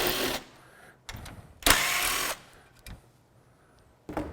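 A power tool removes the top headlight mounting bolts on a vehicle in several short, fairly quiet bursts of buzzing and rattling, separated by pauses.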